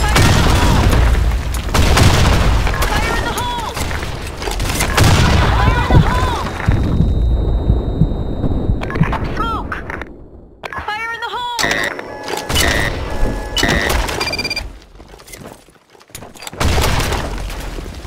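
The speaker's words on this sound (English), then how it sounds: "Fire in the hole! Grenade!" Grenade blasts in the online shooter Blackshot: several loud, booming explosions rolling through a busy battle mix, with game voice callouts heard among them.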